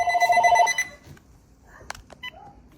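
A landline telephone in a house rings with a bright electronic trill for under a second, then stops, followed by quiet clicks and handling noises of the handset in a still room.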